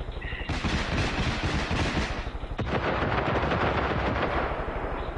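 Rapid automatic gunfire rattles almost nonstop in a Far Cry 5 firefight, dense bursts of loud shots stacking with a short break midway.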